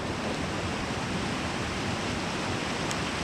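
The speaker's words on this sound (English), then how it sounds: "Hope you can hear me above the sound of the water and the rain." Steady, loud rush of water and heavy rain outdoors on a wet day in Glen Quoich near the Linn of Dee, a dense broadband roar with no voices.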